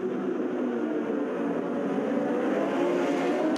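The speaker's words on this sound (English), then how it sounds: "the second start for the Superbike class" Superbike racing motorcycles at the start of a race on the Malaysia Superbike Championship circuit: a dense, continuous engine roar from a pack of machines, loud and sustained throughout with no speech.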